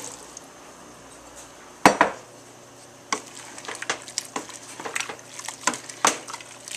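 Beans tipped into a pot for vegan chili, heard as a loud clatter and clunk followed by a string of wet knocks, scrapes and clinks against the metal.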